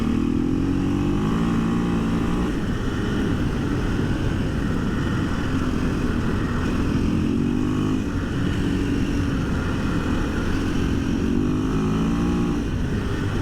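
A 2024 KTM 500 EXC-F on stock ECU mapping accelerates in fourth gear from slow speed to full throttle, its single-cylinder engine droning loud and continuous with rising and falling pitch sweeps and wind rush, no talk.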